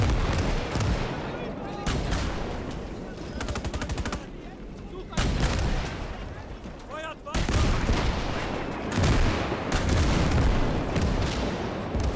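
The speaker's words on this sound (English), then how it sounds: "those siege cannons are just beautiful. But they're still taking a lot of return fire here." Siege cannons and gunfire crash through a mech battle video game, with repeated heavy booms, rapid machine-gun bursts and crackling volleys in a dense, loud, almost unbroken barrage.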